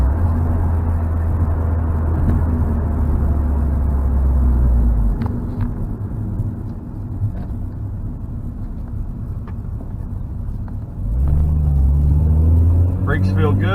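A 1999 Honda Prelude accelerates from inside the cabin with a low, steady engine rumble that eases off midway and then rises again. Someone talks over the engine throughout.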